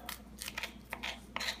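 A kitchen knife cuts the end off a garlic clove, giving several short, quiet, crisp snips and taps spaced irregularly, close by in a quiet room.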